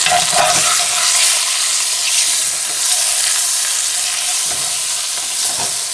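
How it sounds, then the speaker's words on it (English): A pot roast sears in butter drippings in a cast iron pan, making a loud, continuous crackling sizzle with occasional stirring scrapes and no voices. "we're going to sear this on all sides"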